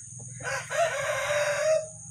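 A rooster crows loudly and close, one long drawn-out call rising and holding, with a low steady hum underneath.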